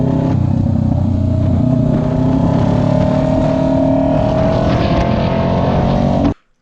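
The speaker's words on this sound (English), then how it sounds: "putting an aftermarket Two Brothers full exhaust system on a Kawasaki 650 Vulcan S" Kawasaki 650 Vulcan S motorcycle with an aftermarket Two Brothers full exhaust, a loud, steady engine drone held for about six seconds before cutting off abruptly, with no voices.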